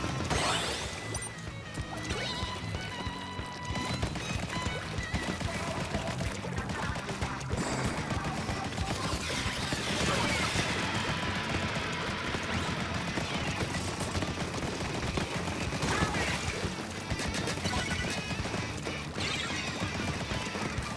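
Ink weapons firing in a Splatoon match, a dense, busy run of splatting shots and impacts layered over game music and effects, steady and loud throughout with no voices.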